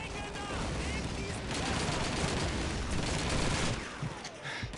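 Dense machine gun and rifle fire in the video game Call of Duty 2, a continuous loud rattle of rapid shots with echoing reverberation, steady for several seconds before easing off.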